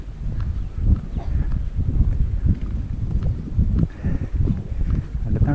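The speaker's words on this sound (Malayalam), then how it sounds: "തണുത്ത കാറ്റ് വീശുന്നുണ്ട് കേട്ടാ." Cold wind blows on a mountain road, a rough, gusty rumble buffeting the microphone in uneven surges, with faint clopping and distant sounds underneath.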